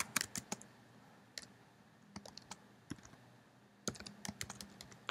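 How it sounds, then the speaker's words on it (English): Keys click on a computer keyboard as code is typed, quiet close-up bursts of rapid taps separated by short pauses. "all we need to do is type in sub"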